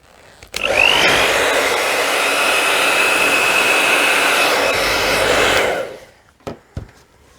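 Air blown over a red and metallic acrylic Dutch pour: a loud, steady whooshing blast starts abruptly, holds for about five seconds, then cuts off, followed by a couple of faint clicks.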